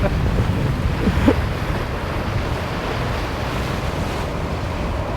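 Wind and ocean waves wash steadily around a solo sailboat on an open-sea passage from Martinique to Panama under a reefed sail, a loud, continuous rushing roar with a brief surge of spray early on.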